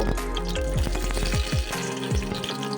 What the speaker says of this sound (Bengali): দিয়ে দিলাম আলু প্রথমেই আমি আলুগুলো ভেজে নেব